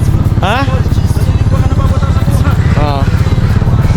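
A scooter motorcycle engine chugs loudly and steadily up close while riding through floodwater, with a rhythmic throbbing drone and people talking over it.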